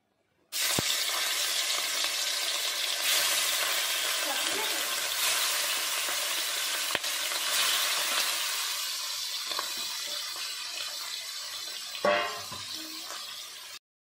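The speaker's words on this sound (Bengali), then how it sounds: "এবার আমি মাছটা ভাজা বসাবো।" Shrimp fry in hot oil in a kadai, the sizzle bursting in abruptly and holding as a steady bright crackle with stirring, and a short louder clatter near the end.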